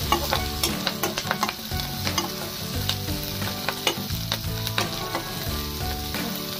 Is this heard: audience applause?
no